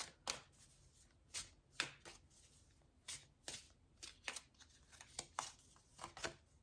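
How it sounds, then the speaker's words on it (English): Lenormand oracle cards being shuffled by hand, a quick, close series of soft riffling bursts and flicks arriving in an uneven rhythm with no talking. "So I think I would also like to pull a couple of Lenormand cards."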